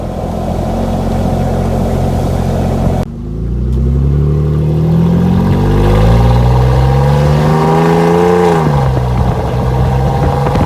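A car runs without its muffler, a loud raw exhaust roar that drops off, then rises again with climbing engine tones before easing back down, close and continuous.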